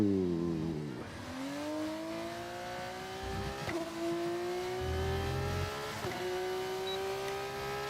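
A Formula 2 racing car engine in a racing video game revs high and shifts up repeatedly, its pitch climbing after each gear change, loud and sustained.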